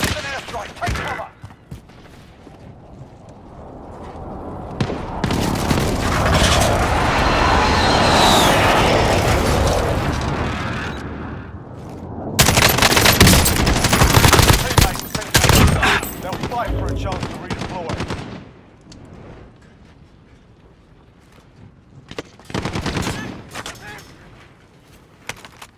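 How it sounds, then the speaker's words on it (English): Bursts of gunfire and booming explosions from an enemy precision airstrike in Call of Duty: Modern Warfare, swelling and fading in several loud waves over the course of the firefight, with some talking. "I'm taking fire."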